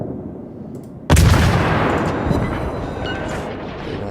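A loud naval gun salvo in World of Warships booms suddenly after near silence, then a long rumbling roar slowly fades.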